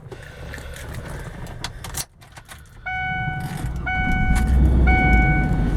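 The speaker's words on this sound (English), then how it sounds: "As you start the vehicle, you will not notice that typical 4-liter single overhead cam Ford Explorer rattle" Keys jangle in the ignition of a 2003 Ford Explorer Sport Trac with a 4-liter single overhead cam engine, followed by a brief pause, repeated warning chimes, then a low engine rumble that swells and keeps running.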